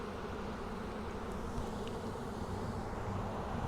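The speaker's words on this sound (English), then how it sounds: "Bees will move out of your way." A dense, steady drone of many package honeybees buzzing nearby while being installed into a hive, continuous and close, with no voices.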